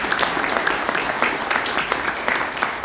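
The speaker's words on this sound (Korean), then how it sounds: "내일 오셨으니까 한 번 더 박수하는 것도 의미가 있을 것 같습니다" An indoor audience claps in dense, sustained applause at a gathering, the scattered sharper claps giving a lively patter throughout the short stretch.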